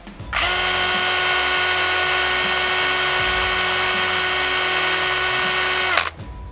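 A Parkside PMBSA 4 A1 cordless screwdriver runs unloaded for about six seconds, a steady, loud, high-pitched whirring motor whine that starts abruptly and cuts off sharply at the end, with no talking.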